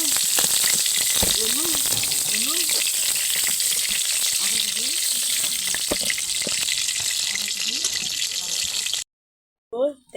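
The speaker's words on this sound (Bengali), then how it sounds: "এইভাবে বাকিটুকু ভেজে নিচ্ছি।" Chicken pieces frying in hot oil for a Bengali chicken roast make a loud, steady sizzle throughout, with a voice speaking over it. The sizzle cuts off abruptly near the end.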